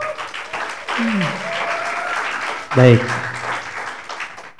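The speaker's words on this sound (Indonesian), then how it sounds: "Tepuk tangan semuanya." Audience clapping at a university scholarship outreach session in Indonesia, a steady round of applause under a presenter's voice, with a brief louder swell near the end.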